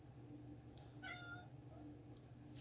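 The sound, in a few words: cat meowing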